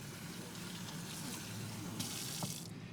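Tap water runs steadily from a faucet to warm dog food, a continuous close hiss and gush with a brief brighter splash near the end.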